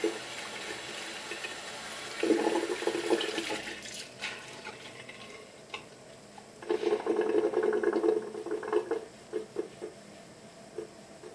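Hot water runs from a household tap in bursts, a rushing splash that starts, pauses and resumes over several seconds, fairly close, with no talking.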